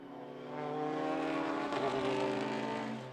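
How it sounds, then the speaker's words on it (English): Saloon and sports cars race up the back straight of a circuit, a loud sustained engine roar building as they approach, holding steady through the passing and dropping away at the end. "Up the back straight he goes, putting Leybourne under quite a bit of pressure"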